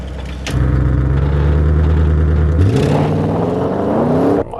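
An Audi RS7 Sportback's 4-litre twin-turbo V8 idles low, then blips and revs hard, its deep growl rising in pitch for a few seconds before cutting off abruptly.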